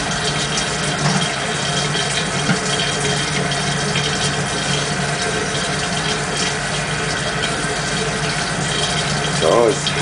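Steady rush of water pouring from a sink faucet onto a small turbine, a continuous broadband flow filling the whole stretch at even loudness, with a brief voice near the end.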